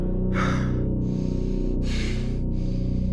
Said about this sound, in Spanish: Se levantó disparado, jadeando